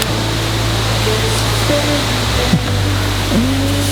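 Steady broadband roar of a large waterfall in the Balkans, loud and continuous, with faint voices and brief tonal sounds underneath.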